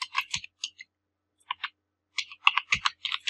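Keys on a computer keyboard clatter in quick, uneven bursts of close, crisp taps, with a short pause midway before a denser run of typing resumes.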